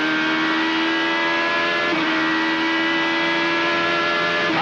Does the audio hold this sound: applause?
no